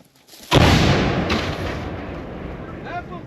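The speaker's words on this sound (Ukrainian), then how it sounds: "Гармата!" A single loud cannon blast erupts suddenly, followed by a long rumbling decay that fades over a few seconds.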